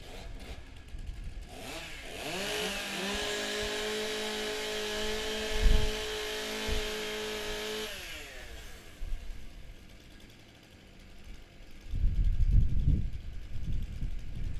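Several chainsaws idle and rev together at a STIHL Timbersports competition as athletes warm up their saws, a loud sustained engine whine that drops off around the middle before rumbling clatter and bursts of revving return.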